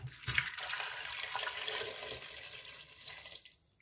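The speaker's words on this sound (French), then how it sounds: "Je recouvre d'eau." Tap water running into a pot over eight washed pink potatoes to cover them, a steady close rushing splash that cuts off near the end.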